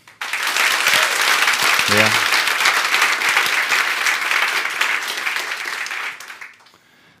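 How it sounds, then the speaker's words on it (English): Strong, loud applause from a startup event audience, dense vigorous clapping sustained for about six seconds before dropping off, with a short spoken interjection early on. "How does a strong applaud sound?"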